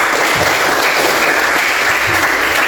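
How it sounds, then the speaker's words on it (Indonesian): A classroom group claps in loud, steady applause, a dense wash of hand claps that holds evenly from start to finish. "Tepuk tangan untuk kita semua."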